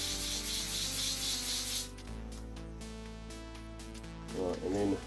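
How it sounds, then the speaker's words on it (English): Composite stone being sanded with 600 grit sandpaper gives a close, hissing rub that runs for about two seconds and stops, followed by a softer, lighter scuffing and a voice in the background. "So it doesn't take much, especially with the 600 sandpaper."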